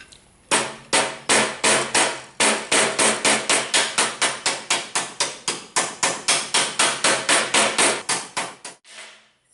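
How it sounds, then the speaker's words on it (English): Rapid, evenly spaced hammer blows ring on bent sheet metal during restoration work on a 1931 Chevy, roughly thirty loud, close strikes in a steady rhythm before stopping. "Now take the hammer."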